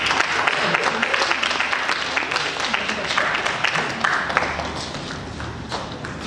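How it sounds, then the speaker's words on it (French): Sustained applause from guests at a civil wedding ceremony in Brazzaville, steady dense clapping from a crowd throughout, with some voices mixed in. "Applaudissez s'il vous plaît."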